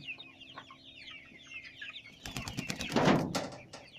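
Chickens cluck and chirp over a busy farmyard background, with a burst of flapping wings and louder squawking near the end.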